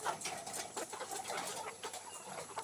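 RTL layer chickens in a poultry house, a busy overlapping mix of soft clucks and calls at a fairly constant moderate level, with no clear voices.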